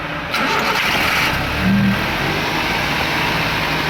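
A 2007 Toyota Xli car engine cranks and catches, then settles into a steady, close idle with a brief rise in revs, heard alone without talk.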